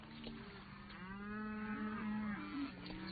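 Cattle moo on a 1943 western ranch, one long, low, bellowing call that swells and holds for a few seconds, close and alone.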